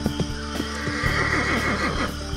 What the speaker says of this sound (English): I'm riding on a horse. Great big fucking horse.